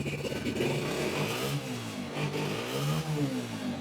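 A Honda 125 motorcycle engine self-starting and then running, its engine note rising and falling in steady revs, close and loud, with no talk over it.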